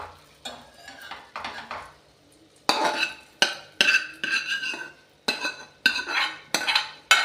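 Potatoes tipped into a pot of spinach, fenugreek and coriander sabzi and stirred with a metal spoon, a run of close scraping, clinking strokes against the pan with short pauses between.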